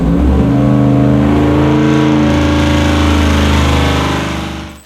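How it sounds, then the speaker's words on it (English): A 5-litre Ford Coyote V8 engine revs hard and loud up close, its deep roar climbing and holding before trailing off at the end. "The Ford Coyote V8 is a renowned American V8 engine"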